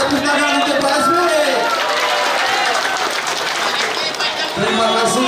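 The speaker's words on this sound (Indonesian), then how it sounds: "Mari warga Langsa tepuk tangan untuk Pak SBY." A crowd at a political gathering in Langsa, Aceh, applauds loudly and steadily for several seconds, a dense wash of clapping with someone speaking over it at the start and end.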